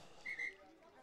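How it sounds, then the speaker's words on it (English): A referee's whistle at a high school first XV rugby match sounds as two short, faint blasts in quick succession, distant under light crowd murmur. "Ref calls the whistle"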